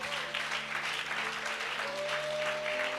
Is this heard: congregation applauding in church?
yes